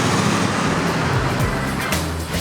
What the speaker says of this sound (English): Did you hear the sound of all the traffic at the junction?